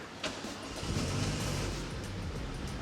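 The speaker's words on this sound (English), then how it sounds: "Oh yeah, we need to turn the car on" A Toyota AE86 fitted with air suspension cranks briefly and then fires, settling into a rough, rumbling idle close to the microphone with no talk over it.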